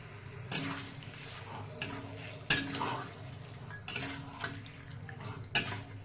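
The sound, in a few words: sautéing chicken with spices in a pan for ghugni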